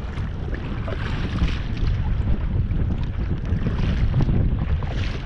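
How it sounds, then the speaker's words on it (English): Strong coastal wind on the Ningaloo Coast buffets the microphone with steady low rumbling gusts, accompanied by a continuous broadband whoosh, loud and close, no voices. "it can get pretty windy at times"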